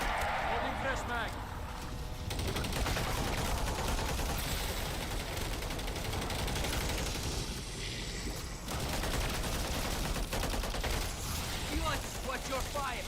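Video game gunfire, bursts of rapid shots under excited shouted voice chat, loud and continuous through the stretch.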